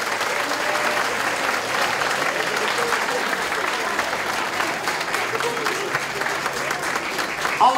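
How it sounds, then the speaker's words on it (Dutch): Crowd applause for the winner of a children's cow show at a cattle market in Woerden, sustained, even clapping from many people at moderate distance, with faint voices beneath it. "we willen natuurlijk in ieder geval een hard applaus hebben op het moment dat ze eerst is geworden"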